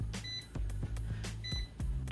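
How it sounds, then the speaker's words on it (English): Short electronic beeps from a UNI-T UT136B+ multimeter's high voltage warning repeat in a rough rhythm over a low steady hum, with sharp clicks between them; no talking. "we're getting the high voltage warning audible beep on the 136B"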